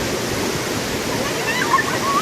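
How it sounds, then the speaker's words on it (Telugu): Athirappilly waterfall pours with a steady, full broadband rush of water, continuous and fairly close, with no pauses across the short stretch. "చూస్తున్నారు కదా వాటర్ అయితే ఎంత బాగా వస్తుంది."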